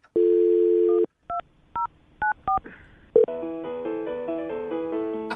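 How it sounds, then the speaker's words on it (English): A phone dial tone, then a quick series of touch-tone beeps as a number is keyed, followed by a tonal ringing melody. No voices. "I'm going to dial her phone number right now."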